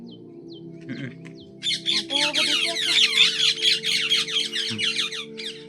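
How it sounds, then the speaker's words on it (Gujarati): Sparrows chirping in a dense, busy chorus while being fed grain, loud and close, with a brief spoken phrase just before the birds start up. "ચકલાને ચણ ને એવું બધું નાખી દીધું. જો અવાજ કરે"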